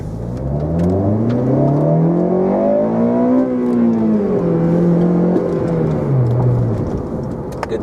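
A Honda Civic Type R FN2 pulls away and accelerates hard, its engine note rising steadily in pitch through the gears, loud and close from inside the cabin, dipping briefly at a shift before climbing again.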